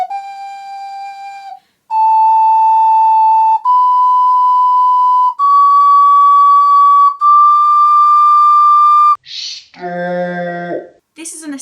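An ocarina plays a slow ascending scale of clear, pure sustained notes, each stepping higher, followed by a short burst of voice-like sound at the end.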